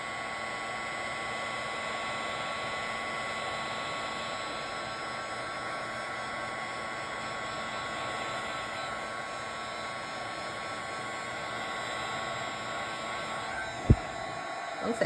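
A heat tool blows steadily on embossing powder for craft stamping, a constant airy whoosh with a soft hum, close and fairly quiet, ending with a couple of brief knocks.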